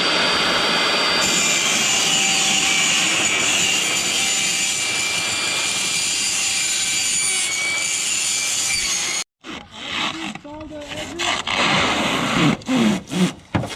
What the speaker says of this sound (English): So Val, what's the easiest way to cut polycarbonate? With a table saw or skill saw